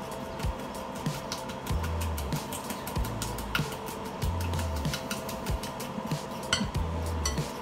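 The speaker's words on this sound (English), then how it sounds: "Now, get whisking, guys." A fork whisks crepe batter in a bowl, giving rapid, steady clinks and scraping taps against the sides that repeat in a brisk rhythm throughout.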